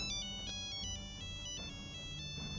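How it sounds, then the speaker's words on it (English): A phone ringtone sounds as an effect in a tabletop roleplaying game, a steady repeating electronic melody of short bright tones, loud and continuous with no talking. "just as you're about to get out the car, you get a phone call"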